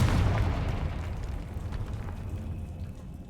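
The Confringo spell goes off in Hogwarts Legacy as a heavy, booming explosion that hits hard at first, then rumbles and slowly decays over a few seconds. No one speaks over it.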